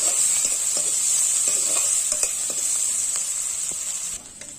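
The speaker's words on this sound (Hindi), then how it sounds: "लाल के होतले भून लेबो" Finely chopped medium onion frying in oil until reddish, a loud steady sizzle and hiss with scattered crackles and a few stirring clinks, alone and close, fading slightly near the end.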